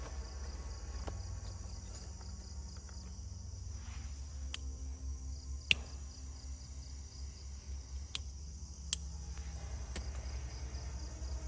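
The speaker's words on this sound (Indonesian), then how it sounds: "Ada jangkrik guys." Crickets chirp at a forest campsite at night in Kalimantan, a faint, steady high trill that runs throughout, with a low rumble beneath and a few scattered clicks and knocks.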